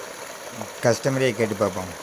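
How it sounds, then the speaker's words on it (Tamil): Water rushes steadily under pressure from a 2-inch pipe fed by an 1100 W solar pump on a farm, a constant hiss running beneath someone speaking nearby. "மதியம் 3 மணி அளவில் தண்ணி எவ்வளோ ப்ரெஷராக வருது பாருங்கள்."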